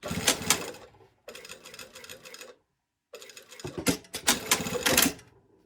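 A sewing machine stitches along the top stitch line of a coat in close, rapid rattling bursts, stopping briefly twice between runs.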